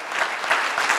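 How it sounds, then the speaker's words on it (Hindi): A brief burst of enthusiastic audience clapping at a Hindi poetry gathering held in America, thick and continuous applause lasting about a second. "मैं एक मर्तबा चाहती हूँ कि आप आदरणीय शंभू शेखर जी के लिए जोरदार तालियां बजाएं।"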